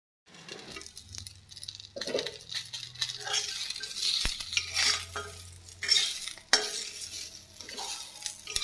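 A vegetable bharta mash is stirred in a pan, with irregular scraping and clinking of the utensil against the metal over a faint sizzle, close and fairly quiet, with no talking.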